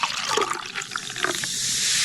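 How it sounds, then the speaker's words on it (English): Orangeade splashes and gurgles as it is poured, first in bubbly bursts and then settling into a steady hissing stream, close and fairly loud with no talking. "I'll pour you some orangeade"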